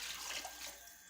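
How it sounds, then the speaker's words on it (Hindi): Water pouring into a pot of soaked rice for desi chicken pulao, a steady splashing stream that runs for about a second, close and fairly soft. "तो इसलिए पानी हम इसमें 2 मग डालेंगे"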